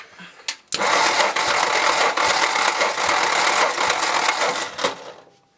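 An old giveaway pickup truck's engine cranks briefly, catches with a sharp burst and settles into a loud, steady running rumble with light rhythmic ticking, then cuts off near the end.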